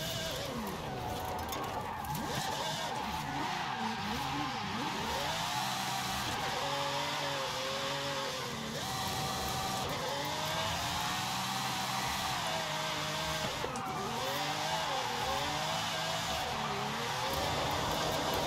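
Tuned car in Forza Horizon 5 driving and sliding down a mountain road, engine revving up and down with repeated tire squeal from skids, loud and continuous throughout.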